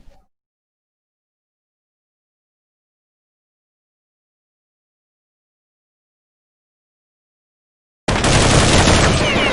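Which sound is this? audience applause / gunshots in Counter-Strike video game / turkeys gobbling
gunshots in Counter-Strike video game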